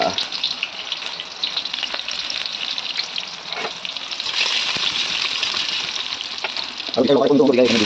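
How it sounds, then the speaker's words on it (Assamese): Onions fry loudly in a pan for chowmein, giving a dense, close sizzle with stirring scrapes throughout. The sizzle swells slightly near the end, where a voice briefly comes in. "এনেকৈ পিঁয়াজখিনি পূৰা দি দিলোঁ এতিয়া"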